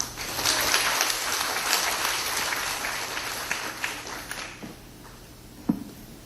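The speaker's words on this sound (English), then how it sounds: "please welcome him with a round of applause" An audience at a teachers' summer workshop applauds to welcome a speaker, with steady, fairly distant clapping that fades out toward the end, followed by a few isolated taps.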